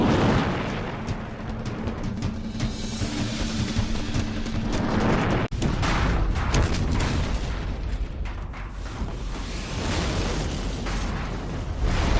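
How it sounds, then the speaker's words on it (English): A Land Rover rigged with a propane tank blows up in a film scene, giving a loud, sustained roaring blast of dense rumbling noise with one sharp crack partway through. "send the second Land Rover down the hill, primed to explode"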